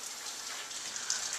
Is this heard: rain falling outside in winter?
yes